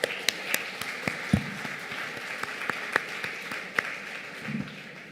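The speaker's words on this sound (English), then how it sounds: "that deserves a huge round of applause for yourselves" Scattered, uneven clapping from an audience at a Bengaluru event, a sparse spread of individual hand claps over faint crowd murmur, fairly quiet and without the density of full applause.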